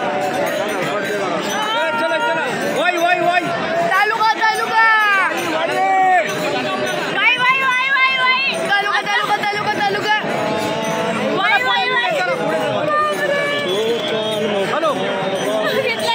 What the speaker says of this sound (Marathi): किती गर्दी असते